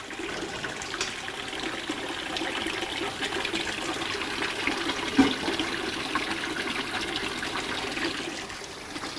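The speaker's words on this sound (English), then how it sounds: "All the siphon is flushing at the same time." Water gushes steadily as all the siphons in an aquaponics tank flush at once, a continuous rushing, gurgling flow with no voices.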